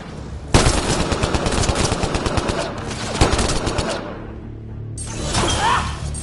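Rapid automatic gunfire from the video game Mass Effect Andromeda, two sustained loud bursts of rattling shots, a short lull, then a further burst of fire and combat noise.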